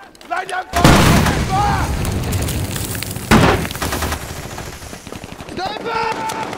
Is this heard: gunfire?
yes